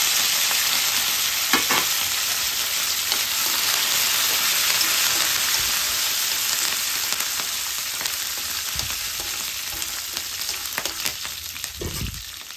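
Dried red chillies and curry leaves fry in hot oil for a tempering, giving a loud, continuous sizzle and crackle up close with occasional stirring knocks.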